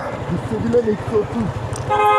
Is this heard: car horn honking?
yes